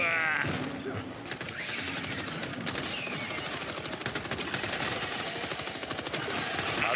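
Gunfire in the co-op shooter Helldivers 2, long rapid automatic bursts rattling almost nonstop, with voices talking faintly underneath.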